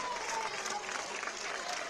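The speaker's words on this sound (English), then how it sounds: "That'll draw an applause from the Carroll faithful who made the trip over to Clinton Prairie this evening." Crowd of Carroll fans applauding at a girls high school basketball game at Clinton Prairie, a steady dense wash of clapping and cheering that fills the whole short stretch at even loudness.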